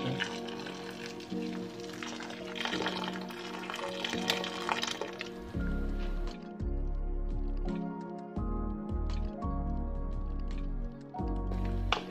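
Hot water is poured into a cooking pot for chicken binakol, a soft liquid filling sound with light clinks, and low-pitched tones with music-like pulses taking over in the second half.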